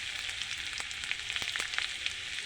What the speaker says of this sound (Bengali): আমি ওই তেলের মধ্যে আদা কুচি দিয়ে দিচ্ছি।